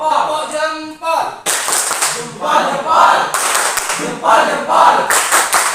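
A group does the Indonesian thumbs clap in a classroom: a spoken chant opens, then several bursts of rhythmic group clapping alternate with short shouted calls.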